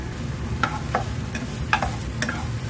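Pork chop and sausage sizzle in a pan, a low steady crackle broken by a few sharp metallic clicks of a utensil against the pan, close by and with no talking.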